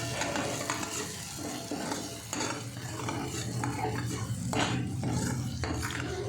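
A spoon scrapes and stirs red chili powder, turmeric and onion-garlic masala through hot oil in a pan for a brinjal curry, with repeated uneven strokes over a soft sizzle, close and fairly quiet, with no talking.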